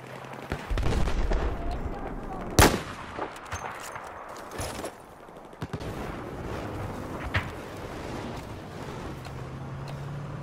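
Gunfire in a military video game with an armored vehicle nearby: one loud crack stands out among scattered shots and booms over a steady engine-like rumble, with bursts and thuds continuing through the scene.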